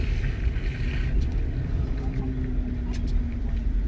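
Inside a 2013 Mercedes-Benz C250 while it is driven, the turbocharged engine gives a steady low rumble with a faint whine rising above it, alongside road and wind noise and no break in the drone.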